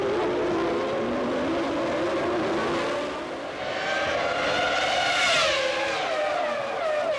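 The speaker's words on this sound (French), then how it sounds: "les McLaren négocient en tête le virage de Sainte-Dévote" Formula 1 McLaren cars, Häkkinen ahead of Coulthard, scream through the Sainte-Dévote corner at Monaco in 1998, high engine whine rising and falling as they brake and accelerate, loud and continuous with overlapping cars.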